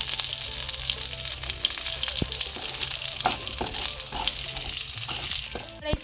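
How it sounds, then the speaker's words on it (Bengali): Mustard seeds tempering in hot oil in a wok (kadai) that was just used for dal, for a vegetarian fish curry. A close, steady sizzle is crackled through by scattered sharp pops, with no talking. "তো এই কড়াইতেই আবার ফোড়ন দেওয়া হচ্ছে ডালটা নামিয়ে"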